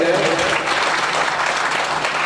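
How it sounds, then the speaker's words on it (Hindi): Applause from an audience at a religious gathering, a steady dense wash of clapping lasting a couple of seconds, with a faint tonal hum beneath it. "तो इनके लिए भी जोरदार तालियां बजाएं।"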